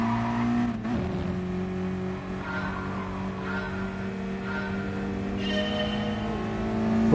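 Race car engines in Gran Turismo Sport, including an S2000, drone steadily with sustained revving tones and a brief dip early on, holding a continuous, moderately loud mechanical hum.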